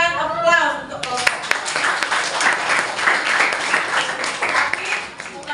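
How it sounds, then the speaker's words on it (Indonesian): Applause in a classroom for a student group, a steady wash of many hands clapping at close range that keeps going for several seconds, with a teacher's voice speaking briefly over the start. "Kita berikan aplaus untuk kelompok."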